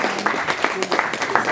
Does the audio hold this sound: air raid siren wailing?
no